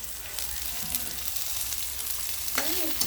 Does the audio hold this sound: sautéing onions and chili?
yes